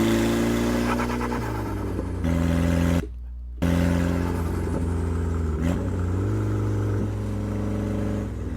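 A Nissan S13 car's exhaust rumbles loud and close as the car pulls up and the driver lets off, with a steady droning note, a brief cut to near silence, then shifting revs that drop and settle.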